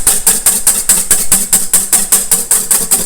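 Four egg whites with a pinch of salt are whisked by hand in a bowl, producing loud, rapid, regular strokes, roughly four per second, close and continuous.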